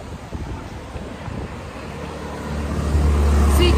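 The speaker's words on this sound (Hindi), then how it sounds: "पर बहुत अच्छी हवा चल रही है" Wind blowing at Janki Jhula bridge in Rishikesh makes a steady, broadband rush across the microphone that grows louder and fuller toward the end, with no voices.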